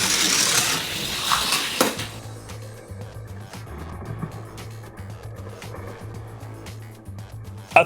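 A Hot Wheels Ferrari Enzo toy car races down a speed-test track. A sharp, loud burst at the start gives way to a faint, steady plastic rolling rumble, with small clicks along the way.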